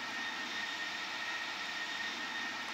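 Steady, continuous aircraft engine drone from an airplane in Microsoft Flight Simulator X during a flight over Italy, a broad even roar holding at constant loudness throughout with no breaks.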